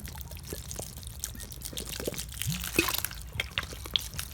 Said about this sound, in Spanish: Entonces, vamos a regar así.